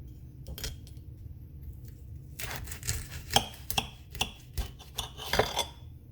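A knife cuts into a pink-fleshed cotton candy variety of fruit, giving a string of close, crisp chopping and scraping strokes, with knocks on a board near the end and no talk.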